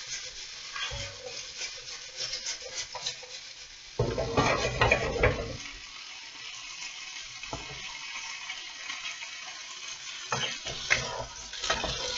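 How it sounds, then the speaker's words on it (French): Potatoes and flat green beans searing in a hot pan, with a steady soft sizzle, stirring bursts and clinks of utensil against the pan, up close and without speech. "Je reprends mes pommes de terre et mes haricots plats que j'avais réservés et on les saisit."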